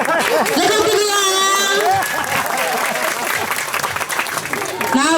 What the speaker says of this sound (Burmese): လက်ခုပ်တီးပေးရအောင်